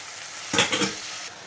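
A brief burst of carrots, beans and peas sizzling and being stirred in a hot pan, a couple of scraping pulses over a low background hiss.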